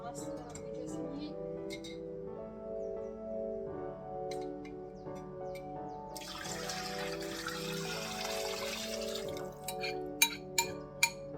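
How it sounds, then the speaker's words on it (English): Homemade jjimdak sauce is poured into a big pot holding chicken and 400 ml of water, giving a soft liquid splash and trickle with a few sharp drips near the end, while a person speaks quietly. "Now I'm gonna add the sauce that we just made."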